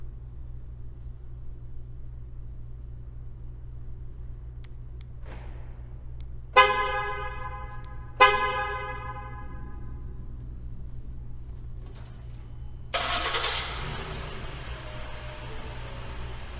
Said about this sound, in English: Simply press the lock button 3 times to start.